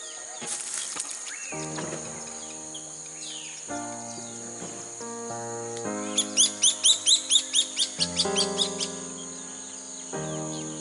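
Northern jacanas call in a squabble at a lily-pad pond, a run of sharp, rapid chirps bursting out loudly midway, mixed with tonal calls and a steady insect drone.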